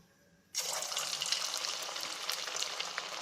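Chicken pakora pieces are dropped into hot oil over a low flame and burst into a loud, steady sizzle after a quiet start. The bubbling hiss holds close and even with no talk over it.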